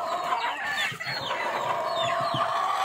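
Chickens on a farm cluck and squawk at feeding time, a busy flock with overlapping calls and a rooster's crow, fairly close.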